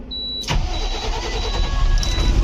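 A car engine with a starting problem cranks and fires up, settling into a close, steady idle with a brief high whine at the start and no talk over it.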